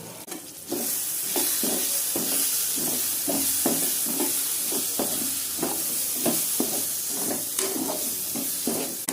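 Chili, coriander and garam masala powders sauté in an oiled pan, giving a steady loud sizzle and hiss broken by regular scraping stirring strokes, close by and with no voices.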